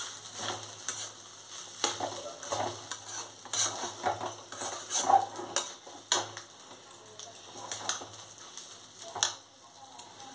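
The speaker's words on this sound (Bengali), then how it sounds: "চালটা ভালো করে নেড়ে যত নাড়বেন তত স্বাদ হবে।" Rice for Basanti pulao is stirred in a pot with repeated scraping and clinking strokes over a soft sizzle. The strokes come in an uneven rhythm and stay close and fairly quiet.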